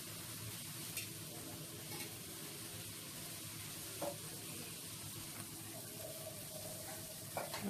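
Onions and tomatoes sautéing in a pan for vada curry make a faint, constant sizzle, with occasional soft clinks and scrapes of stirring, and no voices.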